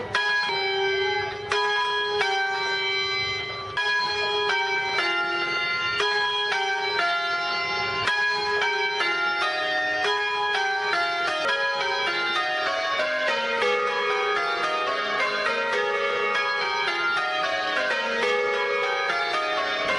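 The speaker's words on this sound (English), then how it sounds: "when we ring the bells, we ring from the position where the bell is face up" Newly installed church bells of St James Garlickhythe, London, peal in a steady, overlapping sequence, loud and close, the rings tumbling through changing orders without a pause.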